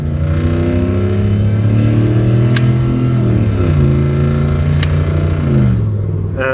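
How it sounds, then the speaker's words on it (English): A car under hard acceleration, its engine revving steadily up through first gear, then dropping in pitch as it shifts smoothly into second and pulls on; loud and close throughout, no talking. "when I floored it now and shifting from first into second"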